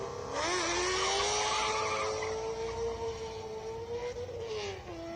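An AC Cobra race car engine accelerates hard at the Simola Hillclimb, its loud tone climbing and holding high, then easing off near the end as another engine passes.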